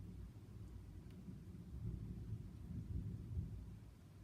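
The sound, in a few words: thunder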